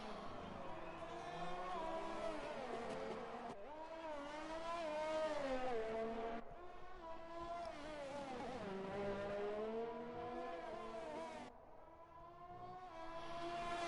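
Norris's AlphaTauri Formula 1 car in a sim racing league round at Canada, its high-pitched engine climbing and dropping through gear shifts on a flying lap, loud and steady, with commentary running underneath.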